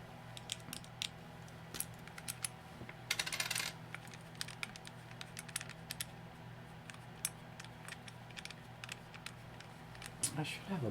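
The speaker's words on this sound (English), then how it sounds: "I keep coins everywhere, but I'm having trouble picking it up." Coins handled and dropped during a camera hands-on with an Olympus E-M5 Mark III, sharp metallic clinks and taps scattered across the clip over a steady low hum, with a brief rattling burst partway through.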